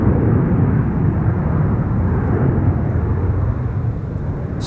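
An airliner taking off from Schiphol's Polderbaan runway 36L, a loud, steady, broad engine roar that holds constant throughout with no speech.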